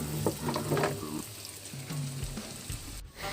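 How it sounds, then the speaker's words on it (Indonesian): Seasoned potatoes coated in cornstarch fry in hot oil with a steady close sizzle and crackle, with some soft clinks and tonal kitchen sounds over it. "Jika minyaknya sudah panas, lalu masukkan kentang yang sudah dibumbui dan dibaluri tepung maizena tadi."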